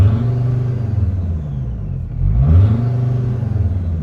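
A Mercedes Sprinter van engine with a turbo under-boost fault revs up, a steady low rumble that dips and then swells into a louder rev near the middle before settling back to a strong idle-like drone.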